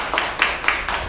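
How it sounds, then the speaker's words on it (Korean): Audience applause at a forum presentation, a short burst of rhythmic, fairly loud hand claps at an even beat, with no voices over it. "앞으로 연애를 꼭 하게 될 우리 수디님께 박수 한번 부탁드립니다"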